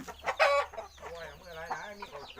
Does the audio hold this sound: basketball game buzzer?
no